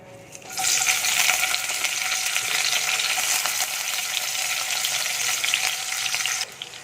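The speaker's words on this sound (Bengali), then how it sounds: "এই মাছ ভাজার তেলের মধ্যে আমি আবার তেল দিয়ে দেবো। আবার তেল দিয়ে দিয়েছি। এবার এর মধ্যে আমি পেঁয়াজ দিয়ে দিচ্ছি।" Onions go into hot oil left over from frying dried fish and set off a sudden, even sizzle that fills the pan, runs steadily for several seconds, then drops off near the end.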